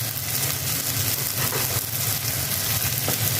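Capsicum sautéing with homemade sambar chili powder in a pan gives a steady, close, loud sizzle and frying hiss throughout, with faint stirring scrapes and no talk.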